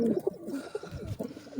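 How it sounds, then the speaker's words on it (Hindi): Pet pigeons sitting in their enclosure coo softly up close, a run of low, throaty, repeated coos overlapping one another. "ये देख लीजिए अब कबूतरियाँ बैठी हुई हैं"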